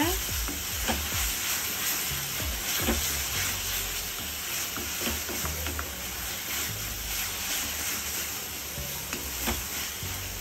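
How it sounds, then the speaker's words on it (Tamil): Ginger garlic paste sautés in a pan for a chicken pepper masala, a continuous close sizzle and hiss with the frequent scrape of a spoon stirring throughout. "இஞ்சி பூண்டையும் நல்லா வதக்கிக்கோங்க."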